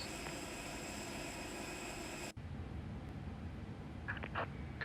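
Airbus A320 being pushed back from the gate, heard as a steady, loud, droning aircraft hum with tonal whine that continues without break, with a few faint higher chirps near the end.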